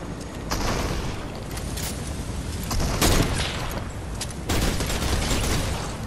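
Gunshots ring out in Fortnite gameplay, a few sharp loud cracks spaced seconds apart over a steady bed of game noise and rumble, with no talking.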